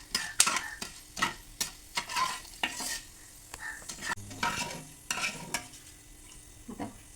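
Whole black pepper dry-roasting in a pan rattles and scrapes in repeated stirring strokes, close and fairly quiet, with no talk.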